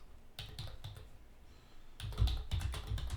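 Fast clicking of keys on a computer keyboard, fairly close, with irregular bursts of keystrokes that grow a bit louder and busier toward the end.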